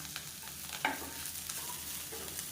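Betel leaves and grated coconut sautéing in a pan, a continuous soft sizzle with scattered scraping and stirring clatters of a spoon, no talk.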